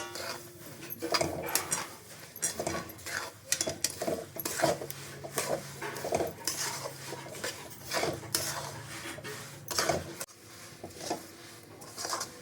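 Sesame seeds and peanuts being stirred in a pan for sesame ladoos, with repeated scraping and rattling of the utensil against the metal at close range and no talk.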